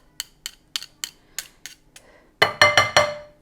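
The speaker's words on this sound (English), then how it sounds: "2 more cloves of garlic. And just scrape that off." A knife scrapes chopped garlic cloves off a cutting board while making bruschetta: a run of light, evenly spaced taps is followed by several louder, rougher scrapes close by. No voices are heard.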